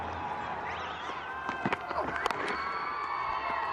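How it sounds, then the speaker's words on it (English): Cricket crowd at a Test match between India and Pakistan in Pakistan in 2004, a steady roar of cheering and applause from a distant stadium, with a commentator's voice over it. "The team is out in the balcony, applauding that effort."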